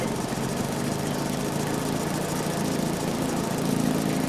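A riding lawn mower with a hydrostatic drivetrain runs at a steady, close, loud engine drone. The tone holds even throughout and nobody speaks.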